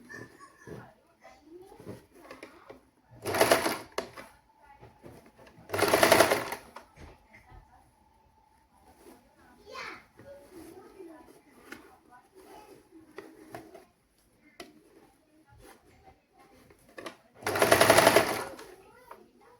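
A sewing machine stitching a frock whirs in three short bursts, each lasting about a second, with quiet pauses and soft talk in Tamil between them.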